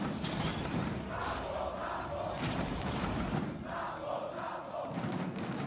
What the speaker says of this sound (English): Listen to the crowd just cheering.